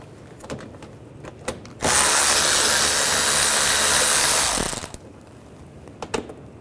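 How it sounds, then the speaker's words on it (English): Power tool with an 8mm socket running out a lower inner fender well screw on a 2009-2010 BMW 535i xDrive, a single steady whir of about three seconds, close and loud, with a few light clicks before and after. "On the inner fender well, we're going to take these lower screws out,"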